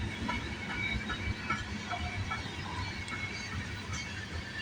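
A CN freight train passes at Tansley near Milepost 44 on a rainy morning. A quiet, distant rolling rumble carries faint wheel squeals and light clicking from the rails.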